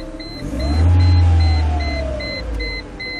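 A Mercedes SLK230 fitted with a smart car alarm and push-start system rumbles at a low idle that swells and then cuts off, while short high electronic beeps repeat steadily throughout.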